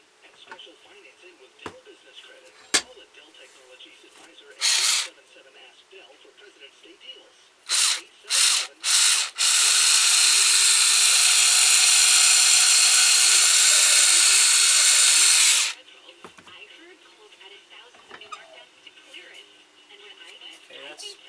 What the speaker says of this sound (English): So we're going to drill a hole, see if we can hit where we want it to go.